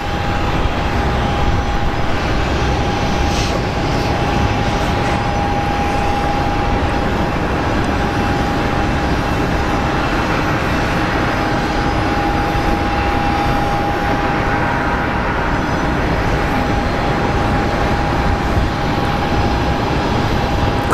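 Airliner engines at Phoenix Sky Harbor airport keep up a loud, unbroken roar with a fixed high whine. The sound holds evenly for about twenty seconds, close by, with no voices over it.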